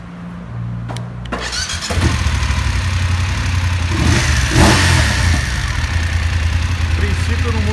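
A BMW F850GS motorcycle with a newly fitted sport air filter is started, the starter churning briefly before the engine catches and settles into a steady, close idle with slight revving, heard alone without talk.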